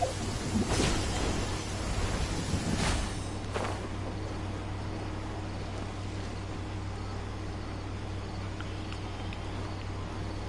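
Steady rain hisses throughout a video game scene in the Sumeru region, with a few loud thunder rumbles in the first seconds before only the rain remains.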